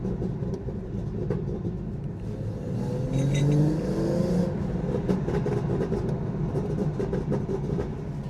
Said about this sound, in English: we should actually hear a few kind of burbles out the window